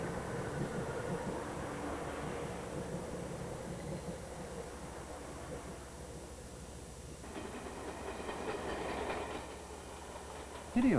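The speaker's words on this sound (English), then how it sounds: "reached by traveling on 2 express trains up into the mountainous highlands of central Japan" Express train travelling up through the mountainous highlands of central Japan, a steady rumbling, hissing roar of the moving carriages heard from inside, continuous throughout with a shift in tone partway through.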